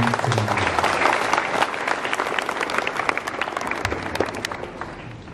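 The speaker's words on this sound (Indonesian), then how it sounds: "tepuk tangan untuk anak-anak semua." Schoolchildren at a junior high school Heroes' Day ceremony applaud together, a dense, loud wash of clapping that runs for several seconds and slowly thins toward the end.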